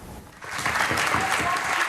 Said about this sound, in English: Applause at Mission Control for the end of one of the most audacious missions in the history of space exploration.